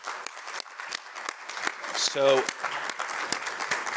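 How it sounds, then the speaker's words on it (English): Audience applause at a continuing medical education event, a dense patter of clapping running through the clip beneath someone speaking into a microphone. "round of applause, please"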